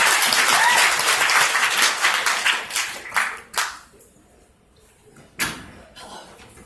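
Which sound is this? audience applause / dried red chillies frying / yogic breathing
audience applause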